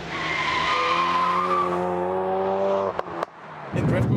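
A Ford Focus RS in drift mode slides sideways with a long, loud tire squeal over the engine, broken by a few sharp transients near the end as the car regains grip.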